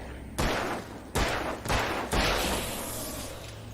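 Four sharp, loud gunshots in the horror game Alan Wake, fired at an uneven pace a little under a second apart, each leaving a short decaying echo, with no talking.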